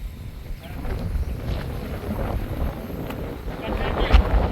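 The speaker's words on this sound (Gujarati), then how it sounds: "પવન થોડોક બહુ છે" Strong wind buffets the microphone in a steady low roar, with a voice faintly audible underneath.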